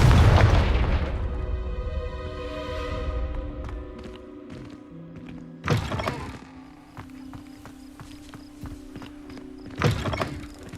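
Confringo fire-blast spell cast in the Hogwarts Legacy video game: a heavy booming burst at the start that decays into rumbling, followed by two more sharp explosive impacts later, with ringing game music tones between.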